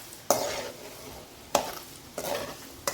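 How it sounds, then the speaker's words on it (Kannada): Chana dal and urad dal fry in oil in a pan, with a soft steady sizzle broken by three sharp scraping stirs of a spoon, close and without talk. "ಅದಕ್ಕೆ ಚೆನ್ನಾಗಿ ಫ್ರೈ ಮಾಡ್ಕೊಬೇಕು."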